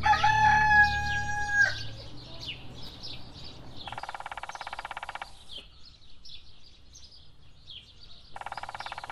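A rooster crows once near the start, a loud drawn-out cock-a-doodle-doo, followed by scattered clucks and chirping birds amid bursts of buzzing background noise in a rural Iranian setting.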